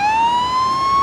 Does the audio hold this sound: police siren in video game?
yes